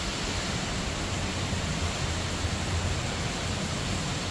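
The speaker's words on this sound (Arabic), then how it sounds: "غزير غزير المطر" Heavy rain pours down during a storm at home, an unbroken, dense hiss that stays loud and even throughout, with no one speaking.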